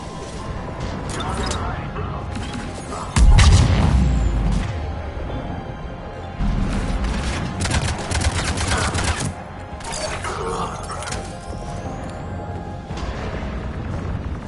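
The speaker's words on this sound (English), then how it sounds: "Those cannons have to be stopped." Cannon fire and gunfire in the Mass Effect video game rumble through a dense battle mix, with heavy booms near 3 and 7 seconds and a steady din of shots and effects throughout.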